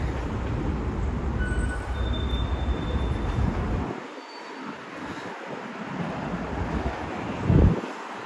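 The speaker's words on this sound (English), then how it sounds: "That's the ventilation shaft for the A and C trains right there." A deep, rumbling roar of New York City subway trains rises through an open ventilation grate, heavy low noise that dips and surges, with a brief screech near the end.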